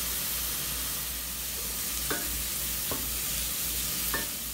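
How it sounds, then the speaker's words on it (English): Onions sautéing with ground cumin and salt make a dense, continuous sizzle close up, with a few faint scrapes of stirring on top and no voices. "Saute your onions for about 5 to 10 minutes until tender."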